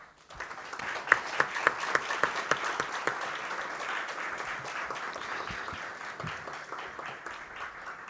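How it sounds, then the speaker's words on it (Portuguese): An audience at a philosophy café talk in São Paulo welcomes a professor with applause: a few sharp, distinct claps at first, then a steady, moderately loud wash of clapping that holds to the end. "a quem eu peço aplausos iniciais"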